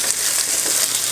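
Sliced cherry tomatoes hit a hot pan beside just-cooked penne, raising a steady, bright sizzle and fry hiss that runs close and unbroken throughout.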